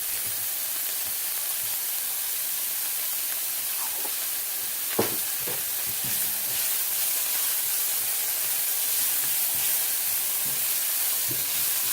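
Fideos noodles frying in a pan of oil, giving a steady close-up sizzle and hiss throughout, with a few soft clicks and knocks from stirring near the middle.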